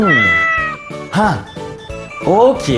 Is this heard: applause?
no